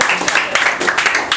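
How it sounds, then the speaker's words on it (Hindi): Brief burst of classroom applause from students at a coaching quiz, several hands clapping unevenly for about a second and a half, close and fairly loud. "एकदम ताली हो जाए।"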